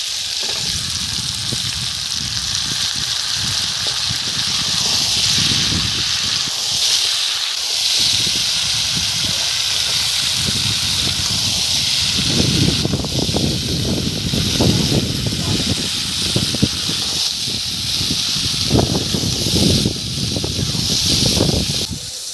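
Drumstick stalks sizzling in a pan of oil after fried potatoes, a steady loud hiss that swells into crackling, bubbling frying in the second half, continuing without pause.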